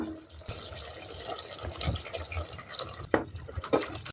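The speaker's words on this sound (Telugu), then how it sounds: "చింతపండు నీళ్ళు పోస్తున్నాను." Tamarind water pours into a simmering pot of meat curry (mukkala pulusu) with curry leaves and green and red chillies, giving a steady watery splash with two sharper splashes near the end.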